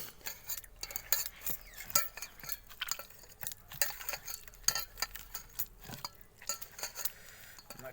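Onion, chilli and tomato dala being mashed by hand in a bowl, with steady soft squelching and clinking taps of utensils or dishware at close range, no talking.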